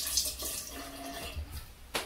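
Tap water runs into a sink while a soft face cloth is wetted, a steady close hiss with a brief louder splash near the end.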